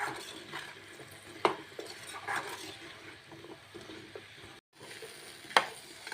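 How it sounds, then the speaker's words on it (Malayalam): Koorka, Chinese potato, fries in a pan with turmeric and salt, giving a steady soft sizzle broken by a few sharp scraping stirs of a utensil against the pan. "ഇത് നല്ലപോലെ നമുക്കൊരു 3-4 മിനിറ്റ് ഇതൊന്ന് ചെറുതായിട്ടൊന്ന് ഫ്രൈ ആക്കി എടുക്കാം."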